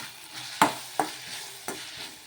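A cooked tomato mixture with tamarind and coriander is stirred in a pan, three or four distinct scraping strokes of a spoon against the pan over a faint sizzle, close and clear with no talking.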